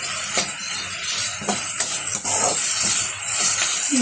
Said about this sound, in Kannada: ಒಂದು ಸ್ವಲ್ಪ ಚೆನ್ನಾಗಿ ಎಣ್ಣೆಗೆ ಹುರಿಬೇಕು